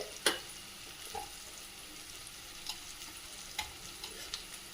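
Cauliflower frying in oil with asafoetida and turmeric: soft steady sizzle punctuated by several sharp spoon scrapes and taps against the pan, close but fairly quiet, no voices.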